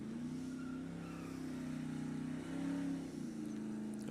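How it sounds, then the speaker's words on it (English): A drag race car at Sacramento Raceway accelerates hard in an ET bracket race, with a steady engine drone rising in pitch and a brief dip near the end as it shifts up a gear, heard from a distance. "Newton bounces through the gears"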